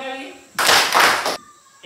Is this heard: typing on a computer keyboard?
no